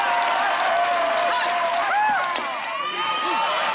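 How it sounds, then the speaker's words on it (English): A baseball stadium crowd roars and cheers in a broad, sustained wash of voices during a college super regional game between Kentucky and Alabama, swelling slightly midway, with scattered whistles and shouts rising above the noise. "The crowd will continue to let you know what they feel."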